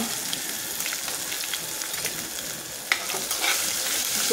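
Finely chopped green chillies and asafoetida fry in hot oil for Goan potato bhaji, a dense, steady sizzle with light stirring scrapes and a brief clack partway through, close and with no talking.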